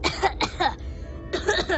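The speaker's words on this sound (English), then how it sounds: "Yeah, I got this cough" A single short cough near the microphone from a person with a rare speech disorder, with a brief pause of quiet after it and more bursts of throat noise that follow.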